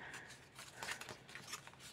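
Soft crisp snips of scissors cutting through paper, several short cuts in a loose rhythm, close and fairly quiet.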